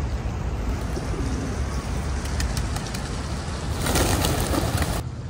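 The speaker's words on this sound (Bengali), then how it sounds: "এখানে সুন্দর সুন্দর কবুতর আছে।" Pigeons cooing in Jindabyne in Australia's Snowy Mountains, soft calls partly buried under a steady, loud broadband hiss that swells briefly near the end, with no talking.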